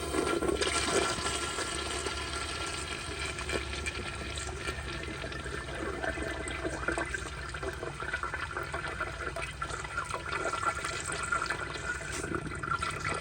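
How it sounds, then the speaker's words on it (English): A 1997 Kohler Dexter urinal flushes with a loud, close, continuous rush of water that keeps flowing steadily throughout. "Alrighty, here's another flush."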